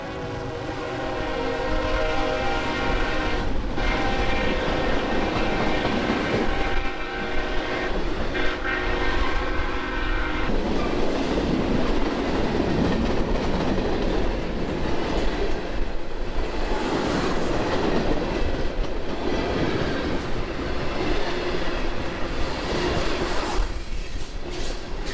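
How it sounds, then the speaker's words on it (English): A CSX freight train rolls past on track shared with Amtrak, a long, loud, steady rumble of wheels and cars with a horn blowing near the start. "So we got to see this CSX freight train go by."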